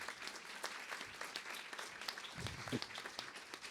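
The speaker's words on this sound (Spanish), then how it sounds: "Y démosles un aplauso a todos estos autores que nos están acompañando." People at a book presentation for Tramas del alimento applaud the authors, with fairly faint, continuous crowd clapping and a few sharper individual claps.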